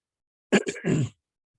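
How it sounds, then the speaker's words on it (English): A host on a live morning talk show clears his throat close to the mic, two sharp rasping bursts followed by a longer rough, gravelly throat-clearing, alone in silence. "we probably will try not to do as much as that, coughing and things like that"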